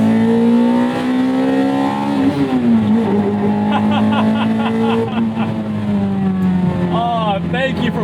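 A 2001 Toyota MR2 Spyder fitted with a swapped-in 2ZZ engine revs hard and climbs in pitch with loud, steady engine tone, dipping briefly during a gear change before pulling up again.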